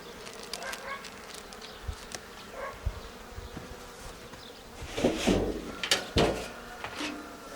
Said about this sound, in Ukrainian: Накриваю дану бджолородину.